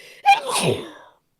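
A single loud, close sneeze with a sharp intake and burst, then silence.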